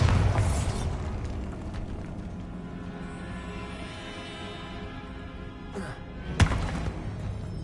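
A Bombarda blasting spell in Hogwarts Legacy sets off a booming explosion that rumbles and slowly decays, followed by a sharp crack and another thud near the end.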